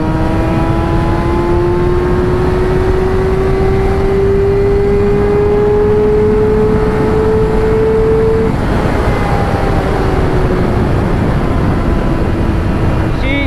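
Yamaha R6 motorcycle accelerating hard through the gears, a loud rising engine whine that climbs steadily, drops at a shift, then climbs again, with heavy wind roar throughout.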